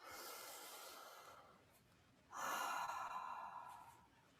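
A deep breath taken during an EFT tapping session for discomfort after a Covid vaccine: a softer breath in, a brief pause, then a louder, fuller exhale of about two seconds, close and without talk.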